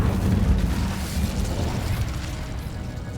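A roaring, rumbling burst of flame from the Incendio fire spell in Hogwarts Legacy, loud at first and then trailing off into a crackling, fading rush.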